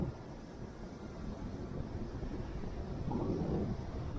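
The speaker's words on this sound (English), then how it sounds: "Wow, and a hurricane wind." Hurricane wind during Isaias weather buffets the microphone as a low, continuous rumbling roar, fairly faint and unbroken, with a slight gust swelling toward the end.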